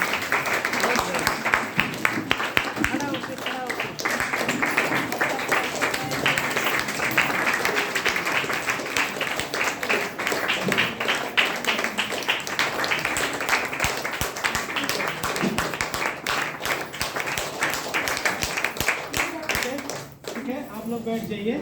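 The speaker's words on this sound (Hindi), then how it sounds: "अपनी जगह से उठ करके एक बार ताली बजा सकते हैं" A seated audience at a talk rises to clap, a dense, sustained patter of many hands that keeps going with little let-up and dips briefly near the end.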